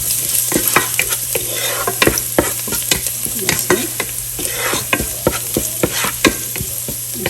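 Chopped garlic frying in a pan while a spoon stirs it, steady bright sizzle with repeated sharp scrapes and clacks of the utensil against the pan, close and fairly loud, with a low steady hum underneath and no talking.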